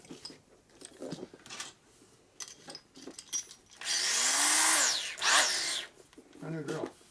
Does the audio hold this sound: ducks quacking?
no